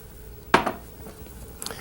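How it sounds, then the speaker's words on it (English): Clinking of a utensil against a pot as dal, a cinnamon stick and ghee are stirred: one sharp metallic knock, a smaller follow-up tap, then a faint clink after a quiet pause. "Give it a bit of a stir"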